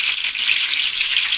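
Chicken pakora fries in hot oil, giving a steady, close, dense sizzle that hisses evenly throughout with no voices.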